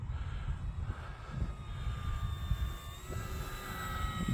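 An E-flite F4U-4 Corsair RC airplane makes a pass at about half throttle, its electric motor a steady whine with a shifting pitch over a rumbling outdoor background, moderately loud and unbroken by speech.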